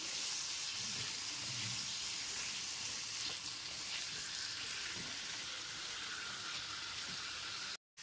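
Fried potato and pointed gourd pieces are mixed into a poppy seed and peanut paste in a pan, producing a soft, continuous sizzle and hiss with faint stirring underneath, fairly quiet and unbroken until an abrupt cut near the end.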